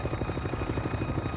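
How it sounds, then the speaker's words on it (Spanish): A Navy helicopter arrives at a crash site, its rotor making a loud, steady, rhythmic chop with a continuous engine roar and no voices. "llega rápidamente al lugar del accidente en un helicóptero de la Marina"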